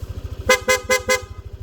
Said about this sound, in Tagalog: Okay, switch, PIA horn